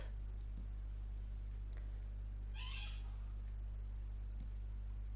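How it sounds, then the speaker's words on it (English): A pet cockatoo screams once in another room, a brief, muffled, distant squawk over a steady low hum. "One cockatoo, who's probably the one you can hear screaming in the background in the other room."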